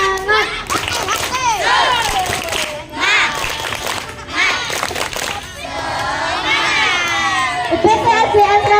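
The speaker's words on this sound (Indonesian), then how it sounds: "kita tepuk semangat dulu ya" Children at a school Ramadan program perform a spirited clapping chant, with lively voices and a crowd ringing over scattered claps for several seconds.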